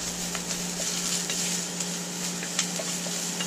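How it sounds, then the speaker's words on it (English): Vegetables stir-fried in a hot pan give a continuous close sizzle, with soft scattered pops and stirring clicks over a low steady hum. "So almost like a really traditional stir fry."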